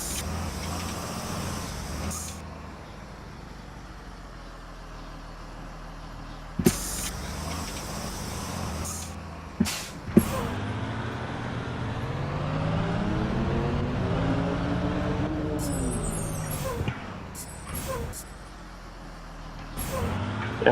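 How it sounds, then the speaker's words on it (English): Air brake hiss and loading brake release from a bus in a video game, with a sustained air rush, several sharp pneumatic bursts and a rising engine-like whine, loud and alone. "it is realistic to have the brake release sound play after the loading brake release sound"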